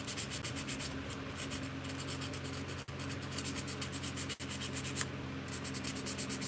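A soldered silver jewelry piece is rubbed with sandpaper in steady back-and-forth strokes, a close, rhythmic scratchy rasp with two brief pauses.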